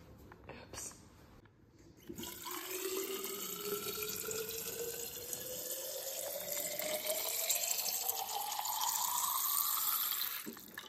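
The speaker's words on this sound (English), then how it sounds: "Now what I'm gonna do is I'm gonna fill up my water" A water bottle fills from a tap, the flow starting after a short pause and running steadily with a clear rising pitch as the bottle fills, ending abruptly at the close.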